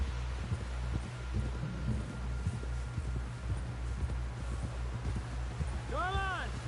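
Horse hooves clip-clop at a steady walking rhythm in Red Dead Redemption 2, close and moderately loud over a low hum, with a brief tonal call near the end.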